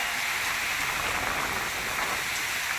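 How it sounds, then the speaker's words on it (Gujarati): Heavy rain pours down steadily, a dense, unbroken hiss of drops hitting surfaces that stays even and loud throughout, with no talking. "અમારા પાસેનો આવો વરસાદ છે આજે"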